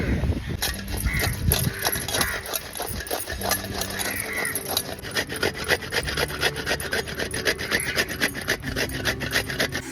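Dried coconut grated by hand, a steady rhythmic rasping of repeated close scraping strokes against the grater, moderately loud and continuous throughout with no speech.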